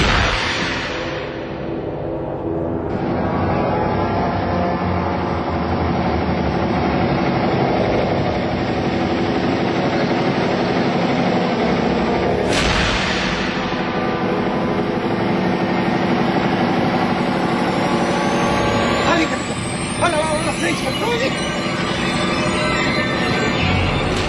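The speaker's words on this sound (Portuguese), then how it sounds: "desliga o motor!" A car engine idles with a steady, loud, droning hum that runs unbroken throughout, with occasional sharp clunks and a rising whine near the end.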